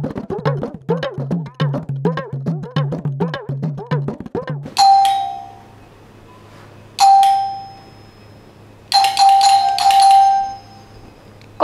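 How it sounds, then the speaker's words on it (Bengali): A doorbell in a home: after a short melodic chiming passage, three separate bright ding-dong rings sound out, each ringing clearly and fading before the next. "কতক্ষণ ধরে কলিং বেল বাজতেছে"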